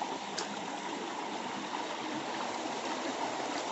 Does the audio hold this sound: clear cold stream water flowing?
yes